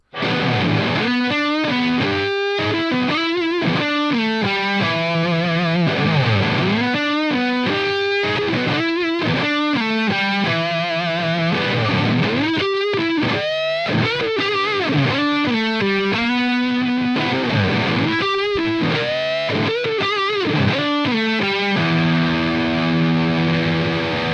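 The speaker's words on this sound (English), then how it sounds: "It's a high gain through the T-Rex Mahler, Bogner Ecstasy 3534 through the Mesa Boogie 412 cabinet." Heavily distorted high-gain electric guitar through a Bogner Ecstasy amp and Mesa Boogie 4x12 cabinet plays continuous riffs and chugging chords, loud and saturated throughout, with no talking.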